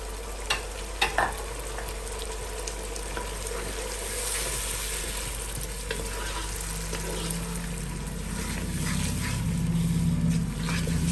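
Turmeric, salt and red chili powder roasting in a hot pan for a Pakistani chicken and pea pulao, with a steady close sizzle and a few scraping stirs near the start that grow into a louder, continuous fry.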